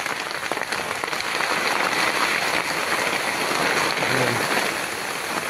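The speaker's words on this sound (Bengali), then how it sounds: "বৃষ্টি দেখো প্রবল বৃষ্টি হচ্ছে" Heavy rain pours down steadily as a dense, constant hiss, loud and close throughout with no pauses.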